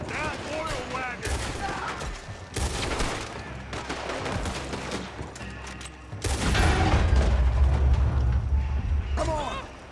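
Repeated gunshots ring out in a Red Dead Redemption 2 shootout aimed at an oil wagon. The fusillade is loud and close, with rapid bursts and heavy low booms mixed with hoofbeats, and shouting voices run over it throughout.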